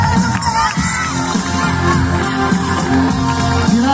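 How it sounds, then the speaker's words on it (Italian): A crowd at a youth football tournament award ceremony in Melicucco cheers and shouts, with children's voices and whoops mixed into a loud, continuous din. "fate un applauso"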